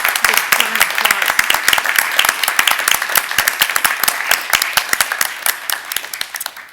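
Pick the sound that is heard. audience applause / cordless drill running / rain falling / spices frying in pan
audience applause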